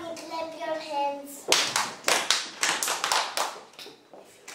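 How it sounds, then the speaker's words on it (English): Children clap their hands along to a Mother's Day song, a series of sharp, close claps in a loose rhythm that follows a sung line. "If you love your mommy, clap your hands."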